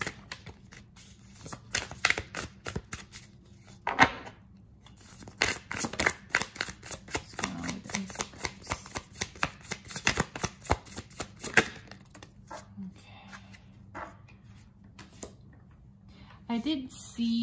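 Tarot cards shuffled by hand during a reading, a steady run of soft riffling and slapping card sounds with sharper snaps, close and moderately loud, alone without talk.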